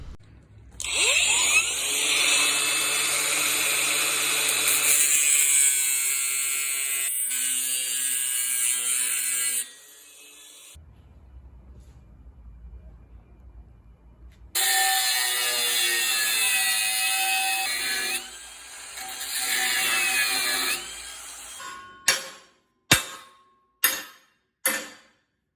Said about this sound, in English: I'm thinking of cutting out a piece here